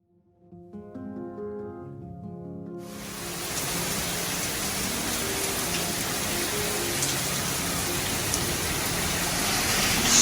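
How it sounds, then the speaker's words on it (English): A strong rainstorm pours down as a dense, steady roar of rain that swells in after a few seconds of soft tonal sounds and then stays loud and even to the end, with no talking. "Strong rainstorm."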